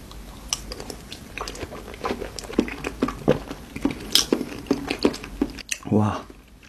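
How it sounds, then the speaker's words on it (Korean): Close-miked mukbang eating, with steady, rhythmic wet chewing and crisp biting sounds repeating throughout, followed by a brief vocal sound near the end. "먹어보겠습니다."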